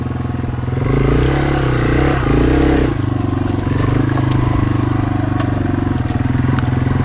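A Yamaha TW200 dual-sport motorcycle idles and putters through a quick 180-degree donut turn, its single-cylinder engine rising briefly then settling into a steady, close thumping rumble.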